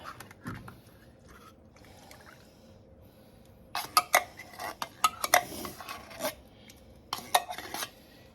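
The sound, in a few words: stirring milk into a pan of scalloped potatoes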